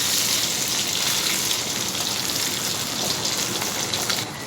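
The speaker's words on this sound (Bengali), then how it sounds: "বৃষ্টি পড়ছে" Rain falls steadily in a dense, hissing wash of drops, loud and continuous outdoors, easing slightly in the final moment, with no voices.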